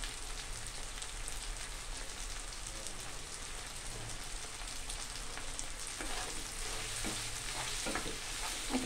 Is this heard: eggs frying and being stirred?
yes